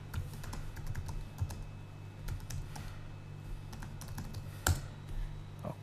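Someone types on a computer keyboard, pressing Ctrl X and then Enter. Scattered, quiet keystrokes click at an irregular pace, and one firmer press lands near the end.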